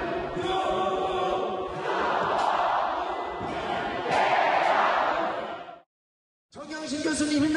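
A large rally crowd in Seocho-dong shouts and chants in loud, swelling waves. The roar cuts out abruptly into brief silence and then resumes.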